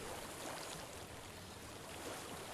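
Steady flowing water in Hellblade: Senua's Sacrifice, a soft continuous broadband rush with no pauses, moderately quiet throughout.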